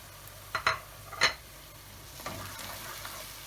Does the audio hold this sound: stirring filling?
yes